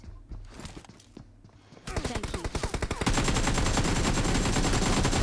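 Rapid bursts of automatic gunfire from the PUBG Mobile video game, starting sparse and quiet, then turning into dense, loud, continuous volleys, with faint talk underneath.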